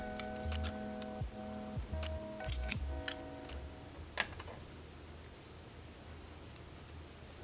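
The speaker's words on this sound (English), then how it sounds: "I'm going to cut my yarn." Scissors snipping through yarn at the end of a crochet piece, several short crisp clicks and cuts, close and quiet, over faint background tones with no talking.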